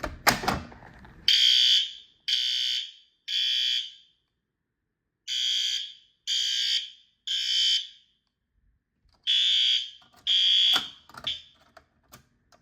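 A System Sensor P2RLA fire alarm horn strobe under test sounds in loud, near, evenly spaced bursts of harsh horn blasts, three, then three, then two, after a short delay and a thump, with brief pauses and no talk.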